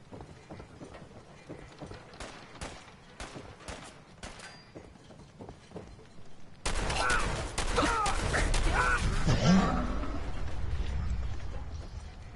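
Gunfire in the video game Fallout 4: a run of sharp, evenly spaced shots, followed by a louder, denser burst of rapid fire mixed with clattering mechanical noise.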